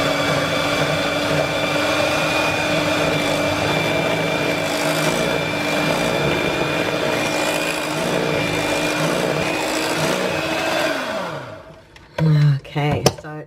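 No-bake gluten-free lemon cheesecake filling whisked in a bowl, a continuous, close scraping and swishing that runs steadily for about eleven seconds before stopping, with a few clinks and knocks at the end.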